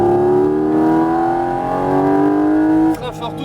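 Porsche GT4 RS engine accelerating hard on a race track, a loud steady rising howl that climbs in pitch for about three seconds before abruptly cutting off, with a brief burst of mechanical noise after.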